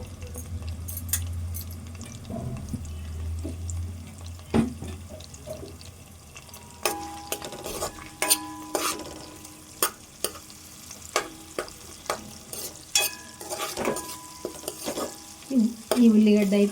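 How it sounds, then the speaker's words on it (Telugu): Turmeric fries in a pan for a Telangana-style raw fish curry. Repeated sharp spoon clinks and scrapes against the pan ring out over a soft, low sizzle, with a few heavier stirring knocks near the end. "కొద్దిసేపు వేగాలి"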